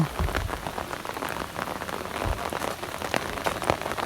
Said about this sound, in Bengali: এখনো বৃষ্টি হচ্ছে সারা রাত হচ্ছে এখন হচ্ছে দেখেন কি অবস্থা